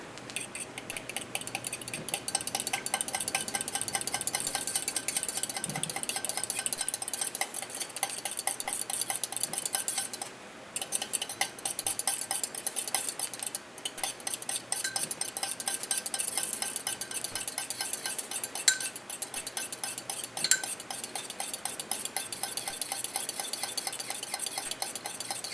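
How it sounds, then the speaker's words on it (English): A utensil stirs a sauce with a little honey in a bowl, a close, continuous run of soft clinks and scraping swirls that keeps a steady rhythm with only brief pauses, no voice over it. "a little bit of honey. Just to add a little sweetness. Okay, just a bit. I'll just mix that all up."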